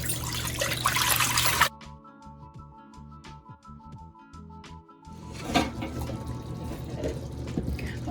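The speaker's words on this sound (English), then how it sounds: "Here I'm placing my water." Tap water pours into a cooking pot for rice, a steady trickling fill heard up close at the start and returning later, broken by quieter clinks and handling noises in between.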